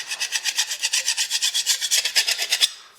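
Hand filing of a steel valve plate from an SO7B compressor, taking off rough burrs: steady rapid rasping strokes, about eight per second, close and fairly loud, with no voices.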